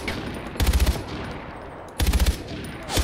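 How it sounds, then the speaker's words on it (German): Automatic weapon fire in the shooter game Far Cry 4: two short, loud bursts of rapid shots, each about half a second long and roughly a second and a half apart, with quieter ambience between and no talking. "Ich werde einfach mal schießen hier."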